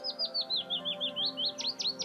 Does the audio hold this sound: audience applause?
no